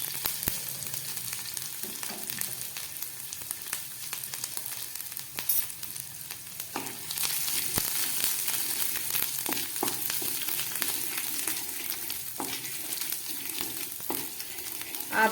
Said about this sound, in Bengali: আদা কাঁচা লঙ্কাটা আমার ভাজা হয়ে গেছে